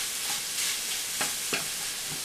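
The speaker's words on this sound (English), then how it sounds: "So we're going to mix this all up." Sloppy joe vegetables mixed in a hot pan, a constant bright sizzle with a few soft scraping strokes of a utensil through the food, close and without talking.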